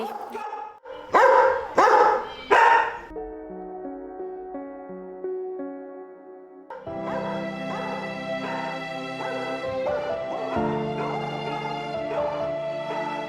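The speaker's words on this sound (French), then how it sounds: "on voit qu'il y a déjà beaucoup de chiens ici" Several dogs bark loudly in quick bursts, then keep yapping and whining over a continuous tonal background.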